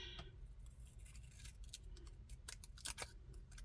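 Scissors snipping through planner paper, a few close, crisp blade clicks and slicing strokes, quiet and alone over a faint room hum.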